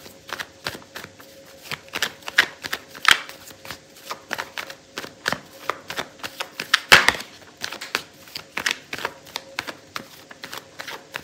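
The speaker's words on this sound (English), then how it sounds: "So let's clarify these cards" A deck of tarot cards is shuffled by hand close up, producing rapid repeated riffling and flicking bursts in an irregular rhythm that continue throughout with no talking.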